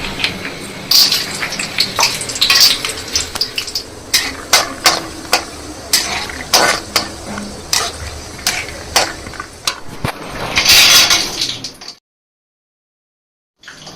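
Besan (gram flour) roasting in hot ghee in a pan at home for ladoos, with a soft continuous sizzle under frequent sharp scraping clicks of a spoon stirring against the pan, close up, stopping abruptly near the end.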